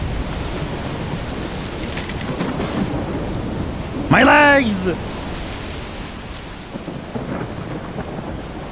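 Loud thunderstorm in the video game S.T.A.L.K.E.R. 2: Heart of Chornobyl, a steady roar of rain and rumbling thunder throughout with a sharp crack around the middle, while someone shouts over it.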